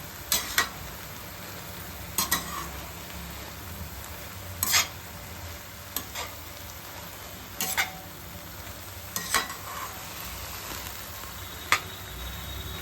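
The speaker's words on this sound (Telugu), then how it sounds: "వేసి పచ్చివాసన పోయేంత వరకు కలుపుకోవాలి" Broad beans and tomato curry frying in a pan, with a steady soft sizzle under repeated sharp spoon scrapes and stirs at irregular intervals, fairly close and with no talking.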